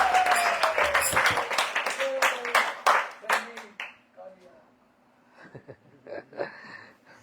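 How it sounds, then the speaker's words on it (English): A small group at a house program in Weston, Miami, claps in brisk, close applause for about three seconds, then scattered claps trail off as a voice talks. "Big clapping for them, big shout."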